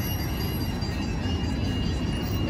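Loud, continuous rumble of a train in motion, with a faint high whine of wheels on the rails.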